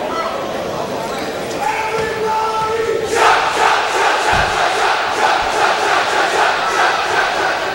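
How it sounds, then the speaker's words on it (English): The De La Salle crowd at a high school basketball game against Warren Mott starts cheering and shouting loudly partway through. A commentator's voice runs before and under the swelling roar. "That's the De La Salle crowd you're hearing before that"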